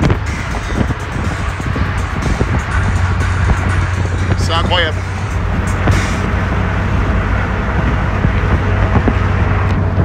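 A loud car engine rumbles steadily throughout, close by, while someone speaks briefly over it, driving in Miami toward South Beach.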